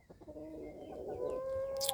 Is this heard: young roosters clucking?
yes